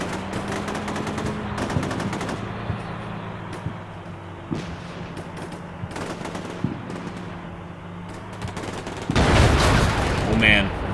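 Vehicle-mounted auto grenade launcher firing in the Combat Mission Shock Force 2 video game during the 2nd Battle of Fallujah, a series of sharp, separated reports over a low engine hum, ending in a loud, dense burst.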